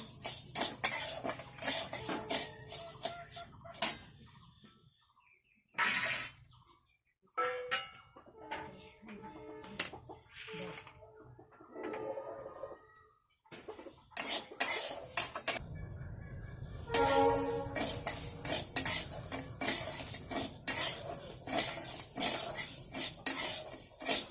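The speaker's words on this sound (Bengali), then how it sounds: "আতপ চালটা একটু হালকা করে ভাজবো, কড়া ভাজা না, একদম হালকা ভাজা" Uncooked atap rice being lightly dry-fried in a hot wok at home, with intermittent metallic scraping and clinking of a spatula against the pan, quiet and broken by short pauses.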